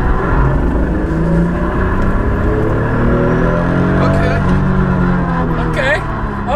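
A turbocharged MK4 Toyota Supra engine drones steadily with rising tones as it builds boost, loud and close, while people talk over it.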